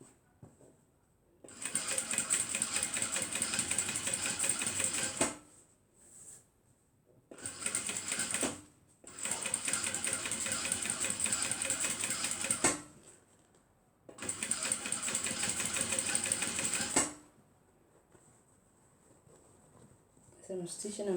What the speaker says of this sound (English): As I'm stitching, I'm checking my lining.